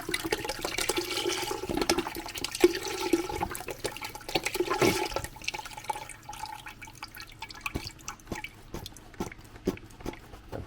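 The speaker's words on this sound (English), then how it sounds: "We're doing another 32 ounce box of chicken broth." Liquid pours steadily from a 32-ounce box of chicken broth into a cooking pot for Louisiana gumbo, a continuous splashing, gurgling stream that tapers into lighter trickles and drips toward the end.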